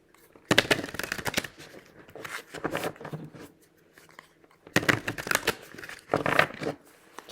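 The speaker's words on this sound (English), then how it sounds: "I'm going to grab this deck. Give these a shuffle." Two bursts of a tarot deck being shuffled up close, each a dense run of crisp riffling card flicks separated by a quiet pause, with no talk.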